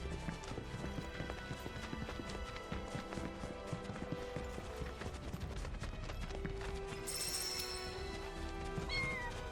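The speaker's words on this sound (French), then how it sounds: "J'ai entendu miauler." Cat meowing inside the video game Final Fantasy VII Rebirth, brief high meows rising near the end over dense game music and clip-clop footsteps.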